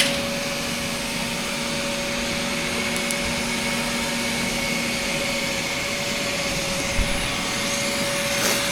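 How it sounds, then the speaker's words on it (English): Welding on a diesel truck's fuel tank in a shop produces a steady, loud, continuous electric hum and hiss with a sustained tonal drone, broken by a faint click near the end. "welding up the fuel tank"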